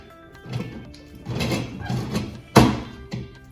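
A tabletop autoclave used to sterilize eyebrow design materials has its lid closed and sealed: a few soft thuds and sliding scrapes, then a sharper clunk as it seats, followed by a lighter knock, close and moderately quiet.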